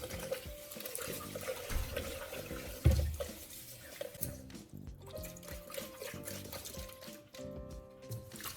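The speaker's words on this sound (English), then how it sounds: "Rinse your brush and let it dry after each use." Tap water runs steadily as a toothbrush is rinsed under it at a sink, a continuous close splashing with a brief louder gush partway through and small drips and knocks around it.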